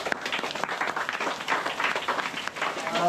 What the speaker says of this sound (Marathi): त्याचं आधी अभिनंदन करा सगळ्यांनी टाळ्या वाजवत